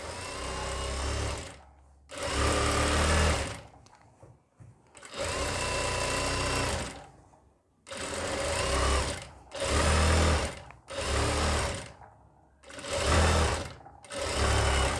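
A sewing machine stitches a leg seam on elastic-back pant fabric, running in loud close bursts of a few seconds each, separated by short pauses, with no talking.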